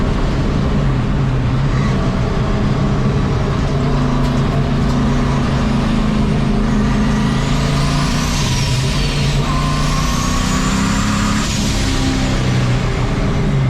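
A 1951 Chevy race truck fitted with a new turbo roars loudly and continuously as it runs through low-speed corners, engine note rising and falling as it downshifts, with a whooshing whine climbing over the drone.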